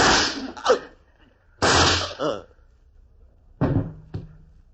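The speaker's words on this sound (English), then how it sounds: "I heard gunfire." Three sharp bursts of gunfire, each a loud crack with a quick echo, spaced a second or two apart.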